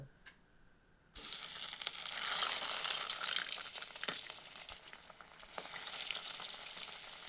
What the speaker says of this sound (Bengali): এক একটি চিজ বল এই তেলের মধ্যে ছেড়ে দেবো দিয়ে ভালো করে লাল লাল করে ভেজে নেব